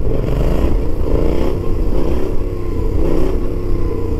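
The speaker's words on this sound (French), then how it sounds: "Regardez le petit coup de gaz." Twin-cylinder motorcycle engine gets a short throttle blip while the bike lifts into a wheelie, a steady loud engine roar with a brief rise in revs, close and continuous with no talk over it.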